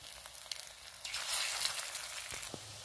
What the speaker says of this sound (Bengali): এবার আমি বাকি যেগুলো আছে সেগুলো ভালো করে দিয়ে ভেজে নেবো